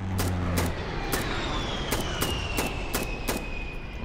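Air fire support strikes in the co-op shooter Insurgency: Sandstorm, a rapid string of sharp explosive cracks and thuds landing at a distance, with a jet-like whine sweeping across behind them.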